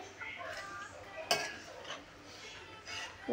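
Pasta being mixed in a pan with a utensil, soft scraping and clinking of metal against the pan in short strokes, with one sharper clank partway through, fairly quiet and close.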